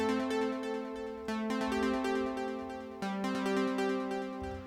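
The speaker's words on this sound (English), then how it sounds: "what I'm going to do is add a delay to this track right here" Synth arpeggio on an Ableton Live track with a delay effect added, repeating plucked notes smeared by echo tails into a continuous, dense pattern, played alone without speech.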